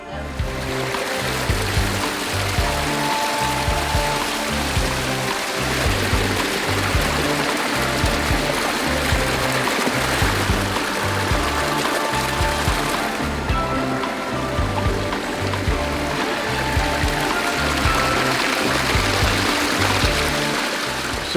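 A backyard waterfall pours steadily in a continuous, dense rush of splashing water, loud and close, with no pauses over the whole stretch.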